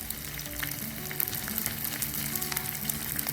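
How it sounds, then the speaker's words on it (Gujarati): Edible gum frying in hot ghee for adadiya sweets, a steady close sizzle and bubbling with small crackles throughout, no voices. "હવે આપણે એમાં તળવાનો છે ગુંદને."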